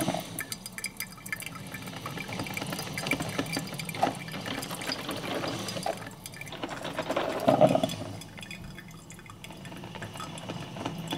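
Amazonbasics 12-cup programmable coffeemaker brewing, steady trickling and dripping of hot water into the carafe with soft gurgling that swells briefly midway, no voices.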